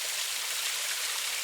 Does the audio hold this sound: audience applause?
no